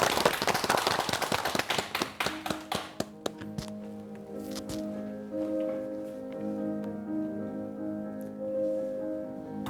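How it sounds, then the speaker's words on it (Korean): Applause from a TV studio audience fills the first few seconds as a loud burst of claps, quickly thinning into scattered individual claps before giving way to soft, steady music. "큰 박수 부탁드립니다."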